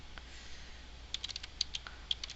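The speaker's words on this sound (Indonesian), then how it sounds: "Kita ketikkan Mei, kita tinggal enter, sudah nggak perlu ngetik semua" Computer keyboard keys are tapped in short irregular bursts of faint, close clicks during an online class, with no talking over them.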